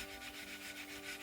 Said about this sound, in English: Hear it scraping?